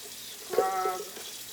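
Tap water runs into a sink while a juicer pulp pitcher is rinsed, a short burst of splashing flow swelling for about half a second before fading, fairly quiet and close.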